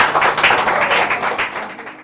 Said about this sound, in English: Let's give Nana Owusu a round of applause.